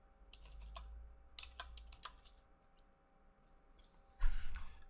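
Password being typed on a computer keyboard: a run of quick, light keystrokes with uneven gaps over a faint steady hum, ending in a louder, denser burst of clicks.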